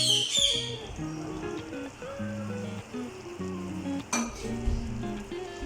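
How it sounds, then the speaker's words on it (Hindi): Hot oil poured into a pot of nihari sets off a brief sizzle, followed by metallic clinks of a utensil against the cookware, quiet and close by in a home kitchen. "हम वो ऑयल इसमें डाल देंगे।"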